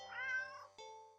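A cat meows in a video game, one drawn-out tonal meow followed by two short chirping meows, close and clear with no talking.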